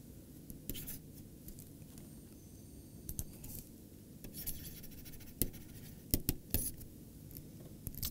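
Chalk scraping and tapping across a blackboard during a maths lecture on alternating tensors, soft irregular strokes with sharper clicks near the end, set against a low steady room hum and no talking.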